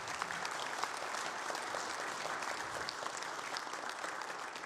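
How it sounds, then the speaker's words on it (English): Audience clapping for World War II veterans at a memorial talk, a faint, even wash of applause from a room of people, continuous and distant throughout. "Give them a round of applause"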